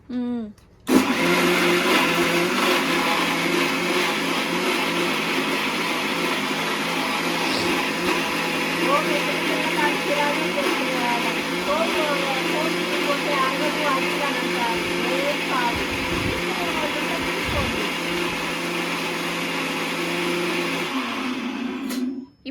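A mixer grinder runs continuously for about twenty seconds, grinding ginger garlic paste, a steady loud whirring motor roar that starts abruptly and cuts off at the end.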